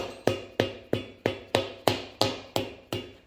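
Nine quick, evenly spaced hammer smacks ring out close up during a Toyota Hilux 3L engine rebuild, each a bright metallic hit fading quickly before the next.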